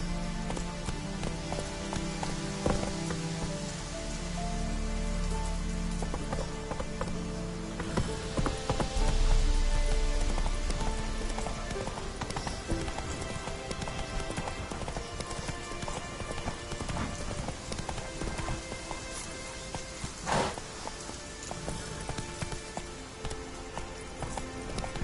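Roach the horse gallops through the rain in The Witcher, with quick rhythmic hoofbeats over a constant wash of rainfall, moderately loud, no talk.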